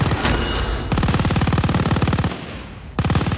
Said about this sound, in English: I have no idea where I'm getting shot from.